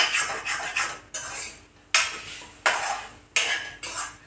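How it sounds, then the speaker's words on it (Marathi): A spoon scrapes and clinks against a kadhai while grated coconut roasts for coconut barfi, in repeated sharp strokes that fade after each one, loud and close with no voices. "आणि चम्मच ह्याच्यासाठी देत राहावं लागते, नाहीतर काय होणार, आपलं खोबर खिस आहे ना कढईला चिपकणार"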